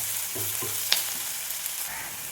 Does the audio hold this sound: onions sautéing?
yes